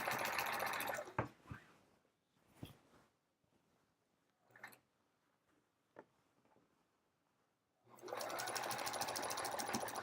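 A sewing machine stitches a quilt row with a loud, fast, close whir for about a second, goes quiet with a few soft clicks and thumps, then whirs again steadily.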